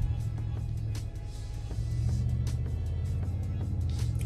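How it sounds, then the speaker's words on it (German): A Mercedes G500 with a 422 PS V8 engine driving onto a motorway, a continuous deep low burble from inside the cabin, steady and fairly loud with slight swells. "Hier blubbert der Wagen schön vor sich hin, so wie es sein soll."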